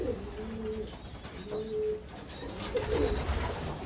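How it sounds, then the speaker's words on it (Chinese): Racing pigeons back in their loft on a rural farm coo in repeated low, throaty phrases at close range, with some faint chirps and rustling behind them. "鸽子全部回来了"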